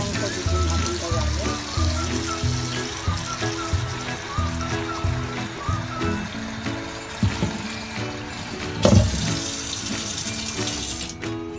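Tap water runs steadily into a cooking pot to be boiled, a continuous splashing stream that fills the clip at close range, rising into a louder rush near the end.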